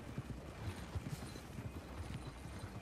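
Horses trot in the Red Dead Online video game, their hooves making a quiet, steady clip-clop rhythm over a faint background hiss.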